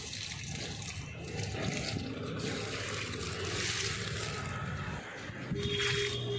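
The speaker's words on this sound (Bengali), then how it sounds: "সম্পূর্ণ জলটা দিয়ে দেওয়া হয়ে গেল" Water poured steadily onto potted garden plants, a continuous splashing trickle at moderate level with no talk.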